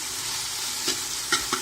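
Ginger garlic paste frying with onions in a pan for chicken curry gives a steady, close hiss of sizzling, broken by three short scraping clinks of stirring.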